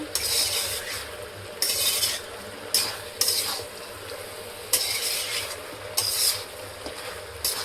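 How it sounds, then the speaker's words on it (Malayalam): Chicken pieces coated in chicken masala are stirred in a pan for South Indian chicken varave. A spoon scrapes in repeated rhythmic bursts over a soft sizzle, close and fairly loud, with no voices. "നന്നായിട്ടൊന്ന് ഇളക്കി കൊടുക്കുക."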